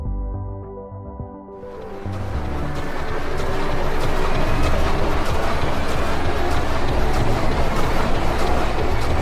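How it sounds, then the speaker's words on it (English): A train carrying festival revelers pulls in, starting with a low tonal hum and then swelling into a loud, continuous rumbling roar of wheels and carriages that holds steady to the end. "The poor train with the burden of carrying the burning moon revelers is now finally arriving."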